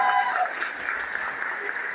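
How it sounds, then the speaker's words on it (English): An audience at a comedy show in Wichita applauds steadily for about two seconds, a dense wash of clapping that fills the room at a fairly even level. "Clap it up for this nurse in the top section."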